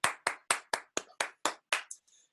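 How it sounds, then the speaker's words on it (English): A group of people clap their hands together in a quick, even run of about nine crisp claps, fairly close and alone, with the last ones trailing off. "Give yourselves a clap"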